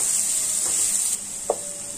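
Two finely chopped onions fry in a pan with a steady, bright sizzle, broken by a short clink of a utensil partway through.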